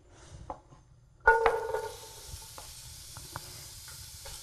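Chopped onions hit about two tablespoons of warmed olive oil in a medium pan, setting off a sudden loud sizzle that settles into a steady frying hiss with a few faint clinks, no voices.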